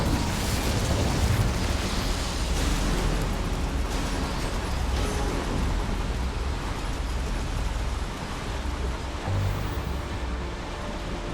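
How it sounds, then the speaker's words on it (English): Flames lit by the Incendio fire spell in the Hogwarts Legacy video game roar and rush in a loud, continuous, broad wash of sound that holds steady throughout, with no talking. "Incendio should be enough to light these flames."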